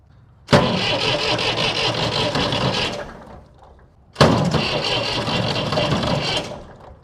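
A Massey Ferguson 135 tractor diesel engine with fuel injector trouble cranks loudly in two separate bursts of about two and a half seconds each, with a short pause between and no start.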